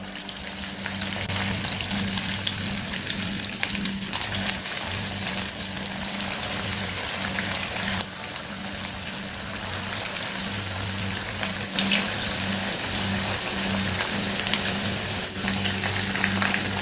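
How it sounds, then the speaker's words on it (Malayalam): Chicken 65 pieces deep-frying in hot oil for a restaurant-style dish, a steady dense crackling sizzle with a low bubbling undertone that runs unbroken throughout, close and fairly loud with no talk. "ഇനി നമുക്ക് ചിക്കൻ ഓരോന്നായി ഇതിലേക്ക് ഇട്ട് ഫ്രൈ ചെയ്തെടുക്കാം"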